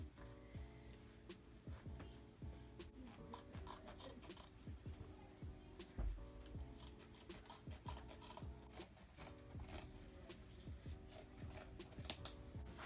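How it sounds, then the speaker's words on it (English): Scissors cut holes in the leg of a pair of jeans, giving repeated quiet snipping and rasping fabric sounds in a rough, uneven rhythm, close and faint, with no speech. "And just cut up some more of the leg."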